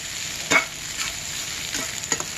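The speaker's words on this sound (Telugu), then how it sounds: "ఆనియన్స్ బాగా చక్కగా ఎర్రగా వేగాలి." Onions frying in oil for fried rice, a constant close sizzle broken by a few sharp spoon scrapes and stirring strokes against the pan, no voices.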